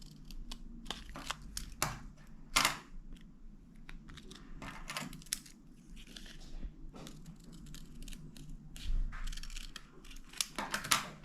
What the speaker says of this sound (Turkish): Sonra bunları üst üste koyuyoruz ve kesiyoruz